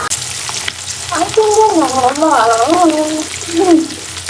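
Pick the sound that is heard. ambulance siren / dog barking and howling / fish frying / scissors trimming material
fish frying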